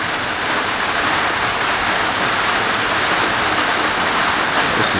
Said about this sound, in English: This is more like tropical downpours, monsoon type rain.